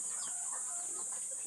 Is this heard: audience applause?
no